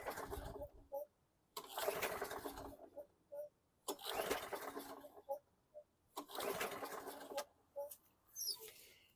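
A 2008 Craftsman lawn mower with an automatic choke and a starting fault is pull-started several times, each yank making a rattling whir of the recoil cord that fails to catch, with faint clicks between pulls.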